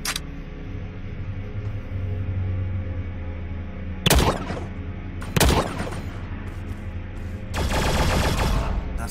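Weapon fire in the video game The Signal from Tölva: a few sharp, loud shots and blasts spaced seconds apart, then a sustained burst near the end, over a steady low ambient hum.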